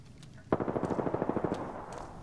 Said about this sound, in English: They're shooting the decoy.